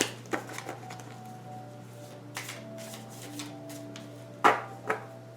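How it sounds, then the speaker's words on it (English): Tarot card decks being shuffled by hand, a few soft riffling bursts and taps spread across the stretch with quiet pauses between them, close and fairly gentle. "I'm just going to do a couple more shuffles for you"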